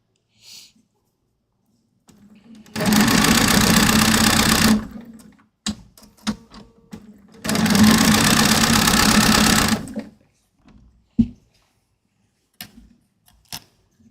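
A sewing machine stitches a temperature quilt in two sustained loud bursts of rapid, buzzing needle action, separated and followed by quiet clicks and small handling knocks.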